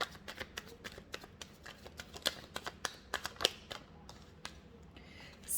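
Tarot cards being shuffled by hand, a quick run of crisp riffling snaps and flicks close up, fairly quiet with no talking.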